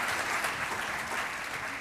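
An audience at a live event in Virginia Beach applauds, a steady wash of clapping from many hands that holds at even loudness from start to finish.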